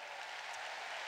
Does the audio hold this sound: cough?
no